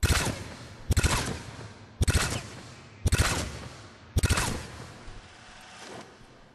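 Hornet burst rifle in Mass Effect 3 firing at a target-practice range, four to five sharp bursts of rapid shots spaced about a second apart, loud and close, with no talking.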